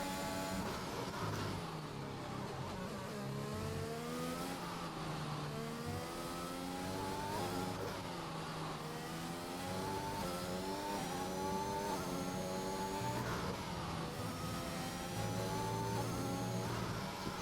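A race car in a racing video game driving through the final corner at Abu Dhabi, its engine climbing through repeated rising revs with gear changes, a steady mid-loud drone and no talking.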